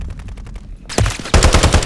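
Automatic gunfire in a Call of Duty Modern Warfare 3 multiplayer match: a quieter distant burst of rapid shots, a brief gap, then loud close volleys of rapid fire cracking in quick succession.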